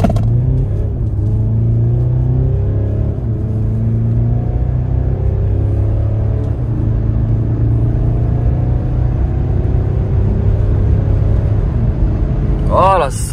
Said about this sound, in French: test d'accélération pour commencer cet essai à bord de ce nouveau Mercedes GLC